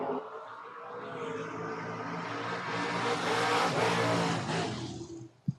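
A Ford Mustang drag race car at an FRBR drag strip roars loudly and steadily for about five seconds, a sustained engine blast that cuts off sharply at the end.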